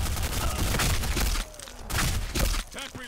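Gunfire from a Scar rifle in the shooter game Black Squad, Castle map team deathmatch: a dense, continuous burst of loud shots that breaks off, then returns in shorter bursts, with faint distant echoes between.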